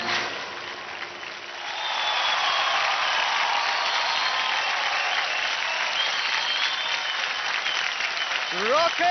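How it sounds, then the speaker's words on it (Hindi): A studio audience at a televised dance competition applauds loudly and continuously after a performance, building from moderate to full clapping with cheering mixed in, and a voice briefly at the end. "रॉकिंग जोरदार तालियां हो जाए सेसिल के लिए।"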